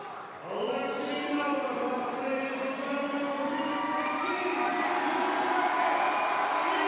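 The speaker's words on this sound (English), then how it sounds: "The crowd definitely behind this man" A live crowd roars and cheers at the 2022 Arnold Strongman Classic dumbbell-for-reps event, the din swelling suddenly and then holding loud and sustained while a commentator's voice talks over it.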